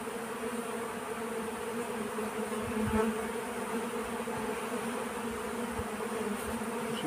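Honeybees buzz steadily inside an open hive among frames of stored nectar, a close continuous droning hum with slight swells and no voices.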